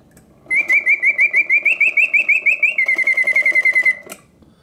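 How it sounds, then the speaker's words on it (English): An antique Karl Griesbaum singing-bird cage automaton pipes a loud, close run of rapid, evenly repeated chirping whistles with a mechanical whirr beneath, shifting to a quicker trill before stopping abruptly. "So the bird opens and closes her mouth and flaps her tail, synchronized to the bird song, and also rotates her head."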